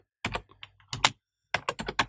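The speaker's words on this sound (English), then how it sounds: "we are going to type sudo" A command typed on a computer keyboard for a Raspberry Pi, a few crisp, close keystrokes in two quick bursts separated by a short pause, with no talking.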